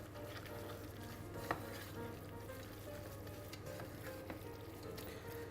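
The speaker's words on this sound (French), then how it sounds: "On remue." Fennel, piquillo pepper, olive and pine nut condiment stirred in a pan, a faint steady sizzle with a low hum beneath and a couple of soft utensil taps, no talking.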